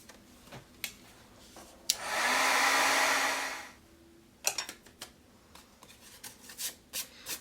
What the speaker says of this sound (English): I'll hit it with my heat tool once again to get rid of all that moisture that's attracting the powder